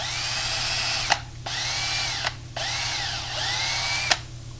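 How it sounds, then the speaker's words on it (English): A power drill whines in three sustained bursts drilling through a leaky RZR 900S shock reservoir, pitch sagging under load, each ending with a sharp click before a brief pause. "we're just going to drill through this until it releases nitrogen."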